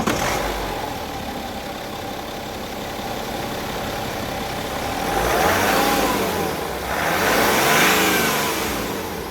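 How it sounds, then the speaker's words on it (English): A BMW N57 diesel car engine runs steadily, then revs up twice in rising swells before settling back, close and fairly loud with no talking. "Start the engine"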